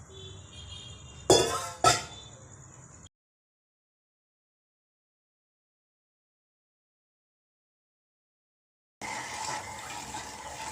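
Water is poured into a pan with sugar for rasgulla syrup in a short splashing gush with two louder surges, then a long silence, then a steady low hiss returns.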